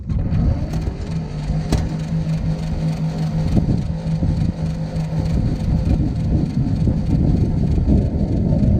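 A 1947 GMC EC303 truck engine cranks over, a steady, dense mechanical churning that stays close and loud without catching.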